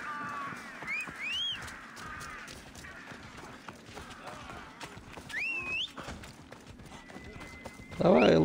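Galloping horse hooves in the video game Assassin's Creed Odyssey, a steady rapid clip-clop running under game music and a voice, with a loud burst at the end.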